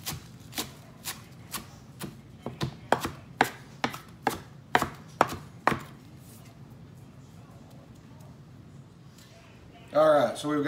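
Onion being chopped on a board for tacos, about a dozen crisp knife strikes in an uneven rhythm, close and distinct, followed by a quiet stretch and then a brief burst of a voice.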